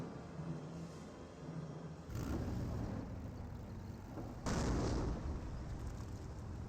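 Mortar fire in the strategy game Company of Heroes: two heavy, booming impacts land a couple of seconds apart, the second louder, over a constant low battlefield rumble.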